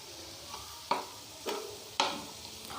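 Boiled macaroni with black pepper is stirred and fried in a pan, giving soft sizzling under three distinct scraping strokes of the spoon at an even pace, close by and with no speech.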